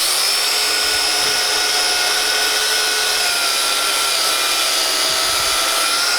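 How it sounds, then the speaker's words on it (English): A steady high-pitched whine of a Forstner bit boring a recess into wood, running continuously without pause, loud and close. "I'm going to drill in a recess that the tip of our live center can go into."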